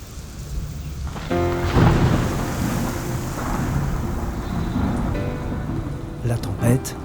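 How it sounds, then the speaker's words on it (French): A thunderstorm over the savanna brings rumbling thunder and steady rain, with gusts buffeting the microphone and a louder crack or burst near the end. "La tempête, l'orage, la foudre"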